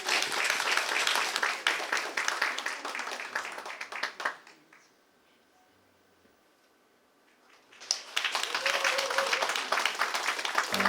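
Audience at a classical benefit concert gives a board member a big round of applause, loud sustained clapping that drops to near silence midway, then swells again into full applause.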